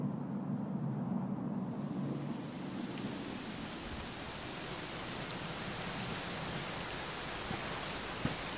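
Steady rain falls in the game Dragon Quest XI S, a dense, even hiss of drops on surfaces that stays constant throughout, with a low rumble near the start and no voices.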